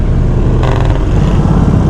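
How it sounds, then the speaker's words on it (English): A BMW R 1250 GS boxer-engine motorcycle on the street makes a harsh first-to-second gear change, a brief shift under a loud, steady engine drone and road noise. "Oh, that's a harsh gear change"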